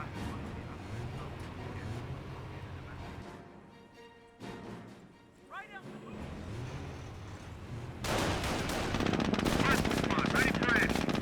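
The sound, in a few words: tank and machine gun fire in Company of Heroes video game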